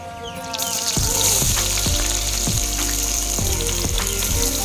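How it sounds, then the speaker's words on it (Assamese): Panch phoron spices hit hot oil in a wok and crackle into a loud, steady sizzle, with a few sharp popping clicks spaced through it and no voices. "তেলখিনি গৰম হোৱাৰ লগে লগে অকণমান পাঁচফোৰণ দিলোঁ"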